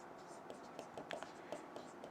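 Writing on a board during a chemistry lesson, faint scratchy strokes and taps in short bursts under low background noise, with soft speech present.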